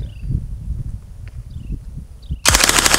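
A machine gun mounted on a robot dog opens fire, a loud sustained burst breaking in sharply near the end after a stretch of quieter footsteps and mechanical whirring.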